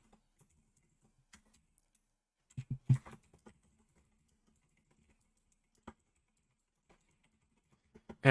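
Computer keyboard typing in a quiet room while coding a Discord bot dashboard, a short burst of close key clicks with a few isolated taps scattered before and after.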